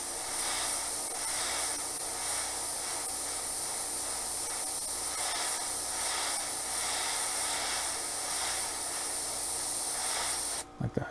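Spray gun steadily hissing as it lays black paint along an edge of a Harley part, a continuous close airy spray lasting about ten seconds before cutting off.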